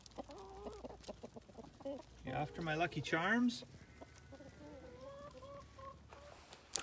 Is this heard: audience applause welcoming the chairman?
no